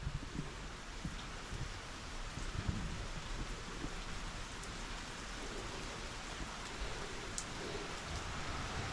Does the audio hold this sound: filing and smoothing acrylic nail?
no